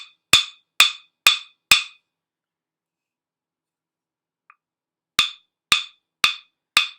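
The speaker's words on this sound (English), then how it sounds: "So I'm going to play my wood block with my mallet, and I'm just going to hit it right in the center," A wood block struck in the center with a mallet gives four sharp, hollow knocks at an even pace, then a long pause, then four more identical close, dry clicks.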